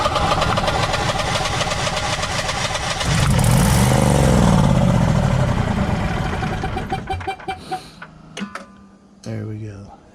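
Generac Guardian 16 kW standby generator engine running rough with a fault, a loud steady mechanical drone that surges, then falters and sputters as it dies, with ticking and clanks, while a person talks.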